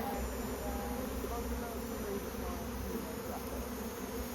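A steady drone of honey bees hangs in the air during a honey harvest, continuous and fairly close, with faint background noise and no clear speech.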